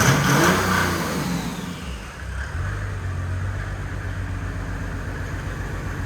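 A cold turbo diesel engine swapped into a Datsun 240Z revs up loudly, then falls back to a steady rumbling idle heard up close, with no voices.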